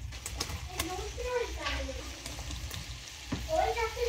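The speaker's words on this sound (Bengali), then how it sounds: "পেঁয়াজটা নেড়ে চেড়ে কিছুক্ষণ ভেজে নেব" Chopped onions with panch phoron fry and get stirred in oil, a steady close sizzle with occasional scraping, while a voice speaks over the cooking.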